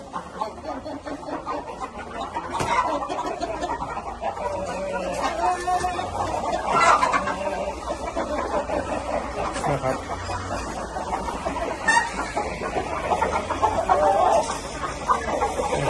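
Chickens cluck and squawk continuously in a busy, noisy coop, with some scratching and movement, fairly close and steady throughout.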